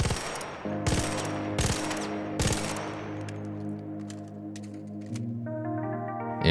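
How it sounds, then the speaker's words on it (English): Three sharp bursts of gunfire from the Arpeggio burst-fire gun in the video game Arc Raiders, evenly spaced, over sustained tonal game music and soft effects, no voices. "due to the burst fire, the gun can't take full advantage of that increased bullet velocity"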